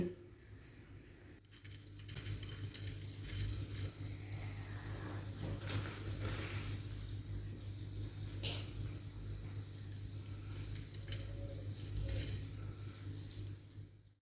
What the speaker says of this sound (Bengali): আলু ভাজাটা কতটা ক্রিস্পি হলো আওয়াজটা শুনেই বুঝতে পারবেন আমি একটা প্লেটে সার্ভ করছি